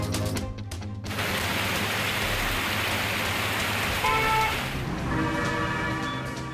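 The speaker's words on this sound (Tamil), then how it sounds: "கடலூரில் வெளுத்து வாங்கும் மழையால் தாழ்வான இடங்களில் வெள்ளப்பெருக்கு." Heavy rain pours down in Cuddalore, a dense, steady hiss of rainfall that stays loud and unbroken throughout, with a few brief tonal sounds rising over it partway through and no voices.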